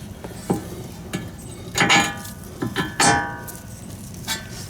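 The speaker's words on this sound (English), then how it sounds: "now we just got to put this bottom tie rod nut in" A bottom tie rod nut being fitted on a Honda Civic during a B-series engine swap, with scattered metallic clinks and a few louder rattling clanks of tools and hardware, close by and without speech.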